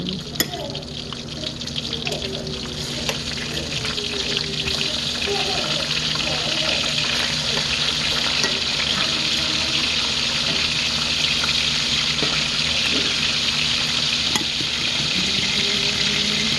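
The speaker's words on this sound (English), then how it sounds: "Let me flip my bacon." Bacon fries in a pan with a loud, steady sizzle throughout, punctuated by occasional clinks and scrapes of a fork, while a voice speaks now and then in the background.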